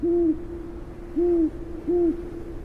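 An owl gives three clear, low, steady hoots, evenly spaced about a second apart, close and loud over quiet night background with no talking.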